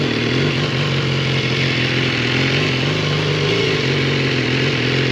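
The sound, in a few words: motorcycle riding off-road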